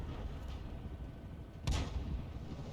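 In a battlefield video game, an M44 artillery gun fires a shell that lands short, heard as a single muffled boom rising out of a steady low rumble of distant battle, fairly faint and with no voices.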